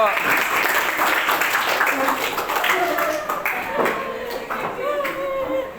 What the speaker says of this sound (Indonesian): diberi tepuk tangan dulu